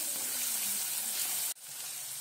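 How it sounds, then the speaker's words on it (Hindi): Finely chopped onion sizzles steadily in hot oil, a close, even hiss that cuts off abruptly near the end before resuming more quietly. "प्याज का कलर चेंज होने तक हम उसे भून लेंगे"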